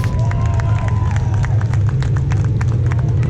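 A street stock race crowd cheers and roars loudly and continuously, mixed with a heavy, steady rumble at the track.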